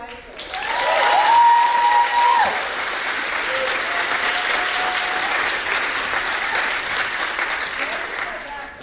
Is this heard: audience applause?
yes